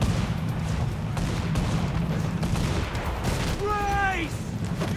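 Enemy cannons fire in a dense, rumbling barrage during a naval battle in Assassin's Creed 4 Black Flag. Booms overlap continuously and loudly, and a tonal cry rises briefly near the end.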